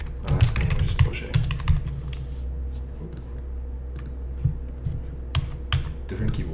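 Keys on a computer keyboard clatter in quick, irregular bursts of close clicks, with short pauses between the runs of typing.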